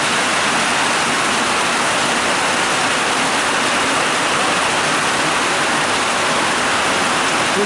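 Steady rain pours down outdoors beside a building under construction, a loud, dense and unbroken hiss with no individual drops standing out and no voices.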